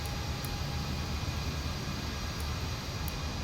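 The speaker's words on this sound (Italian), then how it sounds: "Qualche aereo sta rullando." A taxiing aircraft in Microsoft Flight Simulator 2020 gives a constant, broad, rushing engine roar that holds at an even level throughout, with no talk over it.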